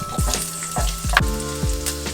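Ginger frying in a frying pan for a beef stir fry sizzles steadily, with several sharp scraping stirs of a utensil against the pan close up.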